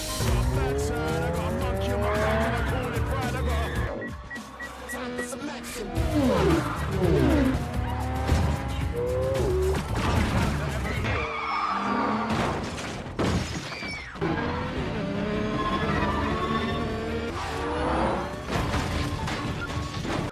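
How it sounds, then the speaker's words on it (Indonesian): Movie car chase with racing engines, squealing, skidding tires, crashes and shattering glass, loud and dense throughout, with brief voices mixed into the action. "Shaw segera memacu mobilnya dan langsung dikejar oleh Brixton berikut anak buahnya"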